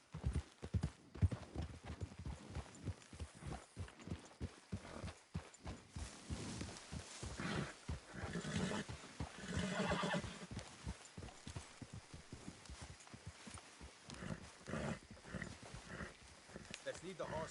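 Hooves clip-clop in a steady trotting rhythm on hard ground in Red Dead Redemption 2, with a horse snorting and occasional voices talking over the hoofbeats.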